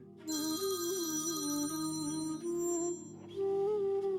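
A melodic phone ringtone plays loudly and steadily, a bright repeating tune with a brief dip near the middle before resuming.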